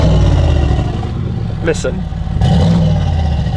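A Mansory G63 Star Trooper pickup's engine revs to around 2000 RPM in Sport Plus mode with the exhaust valves open, giving a loud, deep, steady exhaust drone under brief talk.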